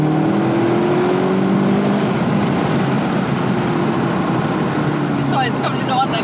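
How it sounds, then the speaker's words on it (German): Car in sport mode with a turbo accelerating, a loud steady engine roar with a rising tone, heard through an open window, ending in a few sharp squeaks. "Dann gebe ich mal Gas."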